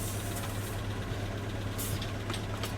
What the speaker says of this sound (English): So as the engine is running, we can't switch off the engine.